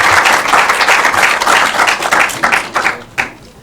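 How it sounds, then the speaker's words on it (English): A crowd of students at a televised Ghanaian senior high school quiz show applauds the Mawuli Senior High School team from the Volta region, loud dense clapping that thins and breaks into a few scattered claps near the end. "Another round of applause for them."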